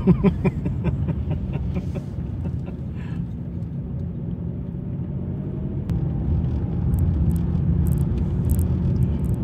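Car interior on a drive near Rannerdale Knotts, a steady low road rumble and engine drone throughout, with a few soft clicks and no talking.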